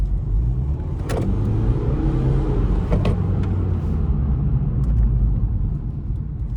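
A BMW 120d F20 diesel hatchback accelerates gently in eco mode, heard from inside as a steady low engine drone and road rumble with a few faint clicks, no voices.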